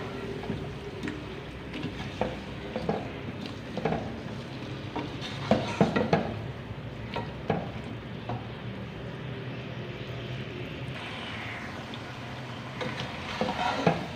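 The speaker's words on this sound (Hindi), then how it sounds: "यहाँ पे आधा पैकेट बिरयानी मसाला डालेंगे। और अच्छे से भून लेंगे।" Biryani masala frying with potatoes and chicken in a pot, giving a steady low sizzle with occasional scraping and stirring clinks throughout, no talking.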